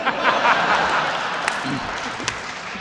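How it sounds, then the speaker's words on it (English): A live audience at a PAX Unplugged show gives a brief wash of applause mixed with chuckles, with speech over the top. The clapping fades within a few seconds. "I love that everyone applauded"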